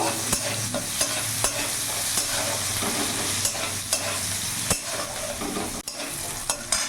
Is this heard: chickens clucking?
no